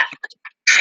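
A few short, raspy coughs and throat-clearing bursts, close by, separated by brief silences, ending in a longer harsh cough.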